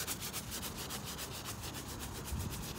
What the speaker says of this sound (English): I was able to get most of the duct tape residue off with using lacquer thinner and a Brillo pad type thing